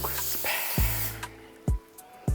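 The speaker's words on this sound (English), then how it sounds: "Use a cooking spray" Cooking spray hisses onto a hot pan for about a second, then a few sharp metallic taps and clanks of a spatula against the pan follow.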